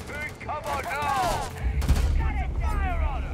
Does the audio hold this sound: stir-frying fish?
no